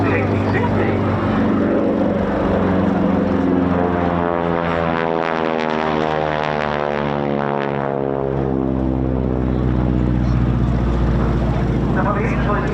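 A North American Harvard propeller trainer runs in from the right trailing display smoke at an air show, its droning engine rising and sweeping past with a falling pitch, loud and steady, with a commentator talking over it.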